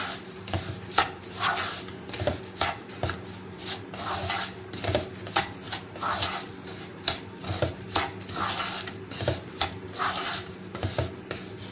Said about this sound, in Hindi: अब चीनी को बेसन के साथ अच्छी तरह मिक्स करेंगे